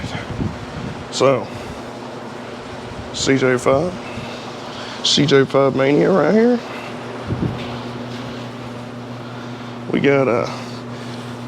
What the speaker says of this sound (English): I apologize for the fan noise